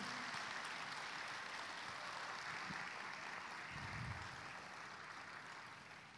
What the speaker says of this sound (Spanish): un doble aplauso a Él